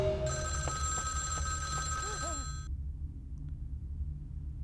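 Telephone ringing in the video game Vampire: The Masquerade - Bloodlines, an electronic bell tone ringing for about two and a half seconds over a low ambient hum, then cutting off, leaving only the background.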